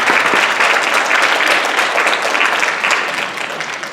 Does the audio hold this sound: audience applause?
yes